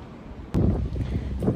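Wind blowing outdoors on a sunny day by the water while fishing, a rough low rumble of gusts buffeting the microphone that jumps louder halfway through and stays strong.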